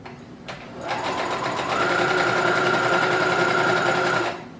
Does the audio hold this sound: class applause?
no